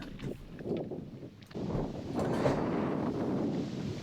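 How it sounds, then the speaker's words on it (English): Wind buffets the camera microphone outdoors at a match-fishing venue, a steady low rumbling roar that swells and stays strong to the end, with no speech. "So the wind is really picking up even more now. You can probably hear it on the mic of the camera."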